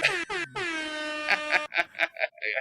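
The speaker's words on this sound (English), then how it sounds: "I'm going to give myself an air horn." An air horn sound effect played in a podcast studio blares in one long sustained blast after two short bursts, followed by a run of quick choppy honks, loud and alone with no talk.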